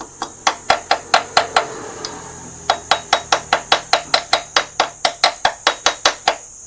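Sharp metallic taps strike the voltage regulator of a Yamaha FZS motorcycle, a brisk run of evenly spaced ringing knocks with a short pause early, then a longer steady series, close and loud.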